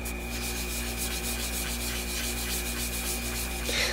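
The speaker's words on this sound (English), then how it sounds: "I'm going to go in with the rose red and kind of burnish that in there." Rose red ink is rubbed and burnished onto paper for a sunset galaxy sky stamping technique, making a steady, close, even rasping scrub with a continuous rhythmic texture and a steady background hum.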